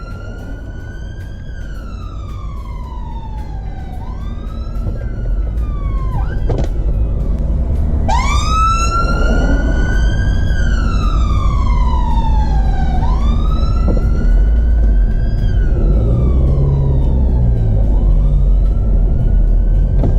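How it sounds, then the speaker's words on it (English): An approaching ambulance siren wails in rising and falling sweeps over the rumble of road traffic, growing louder as it nears and continuing alone without speech. "In the next video, you will hear and see an ambulance approaching."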